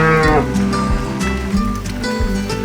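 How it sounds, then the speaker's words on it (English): Cattle moo loudly and close by in open cow country, with a long, deep, drawn-out low followed by further lowing under a steady background rumble. "It's cow country."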